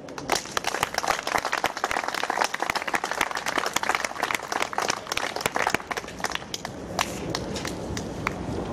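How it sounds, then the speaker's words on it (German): Outdoor crowd at a protest vigil claps vigorously, a loud, dense patter of many hands with crisp individual claps, easing slightly in intensity toward the end. "Und von hier aus mal einen riesen Applaus nach Berlin."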